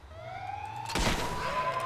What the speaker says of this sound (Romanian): Bă, mașină în spate, poliție,